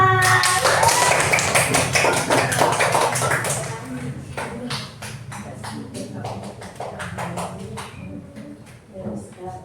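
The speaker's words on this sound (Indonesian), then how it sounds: "Beri tepuk tangan untuk kelompok 4" A classroom of young primary pupils claps for a student group about to present; loud, rapid rhythmic clapping at first, then thinning into scattered individual claps with some shuffling.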